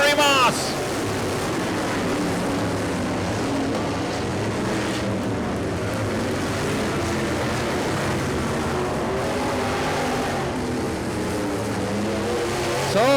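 Race cars on a short track roar down the stretch in a dirt-track-style drag race for the lead, producing continuous loud engine noise with a commentator talking over it throughout.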